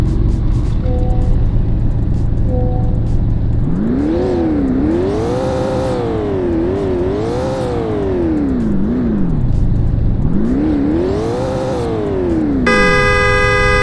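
Revving of a 2022 BMW M2 engine in the Roblox game Greenville, loud and close, with three sweeping rev rises and falls over a steady idle, ending in a brief horn toot.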